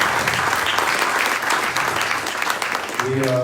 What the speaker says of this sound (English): Round of applause for SeanDon.